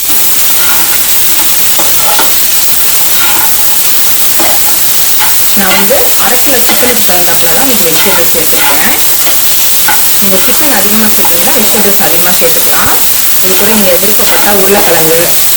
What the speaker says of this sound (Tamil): இந்த காய் நல்லா வதக்கிக்கலாம்